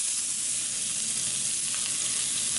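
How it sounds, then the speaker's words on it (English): Bonita fish fillet sizzling hard in a hot frying pan, a steady dense crackle of frying oil holding at an even level for the whole stretch with no voices. "It should go sizzle like crazy when we lay it in there."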